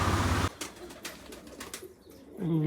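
Pigeons coo softly amid a scatter of clicks and rustles, with a louder low hum at the start and end.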